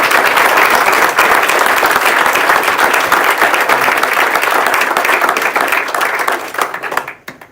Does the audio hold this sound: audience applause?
yes